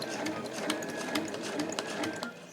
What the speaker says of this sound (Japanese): この印をつけたところですね、端から 7mm のところを縫います